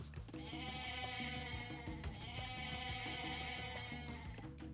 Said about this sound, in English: He has some pretty fat goats at home.